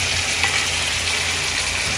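Beef for caldereta sizzles steadily as it is sautéed in a hot pan, a close, even frying hiss with a faint low hum beneath and no speech.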